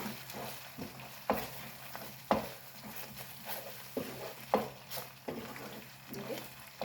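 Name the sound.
frying masala for buttermilk sambar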